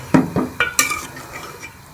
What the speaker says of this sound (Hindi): मसाले को गोश्त के साथ, दही को गोश्त के साथ अच्छी तरह से भून लूँगी